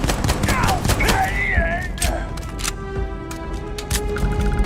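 Rapid pistol gunfire in the video game Starfield, a string of sharp close shots scattered across the moment amid other game effects and whining tones.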